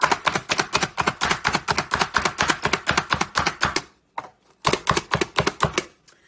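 A food chopper dices peppers in a fast, even run of sharp chopping strikes, close and loud. After a brief pause the strikes resume for a second burst.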